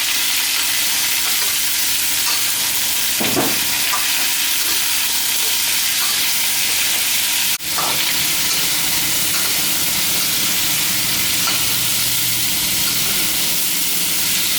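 Pumpkin and garlic stir-fried in a pan for a pumpkin-with-egg dish give off a loud, steady sizzle and hiss, broken by a couple of sharp spatula clanks against the pan, with no one talking.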